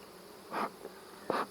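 Honey bees buzz around a hive in two or three brief, faint passes of buzzing close by, against a quiet background.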